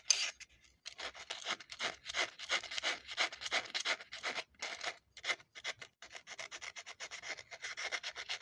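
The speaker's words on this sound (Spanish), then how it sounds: "Tiene un agujazo la punta de la lanzadera, vamos a sacarle con una lijita." Sandpaper rubs in quick, uneven bursts against the metal point of the shuttle hook on a Pfaff 545 sewing machine, close and fairly quiet, with short pauses between strokes.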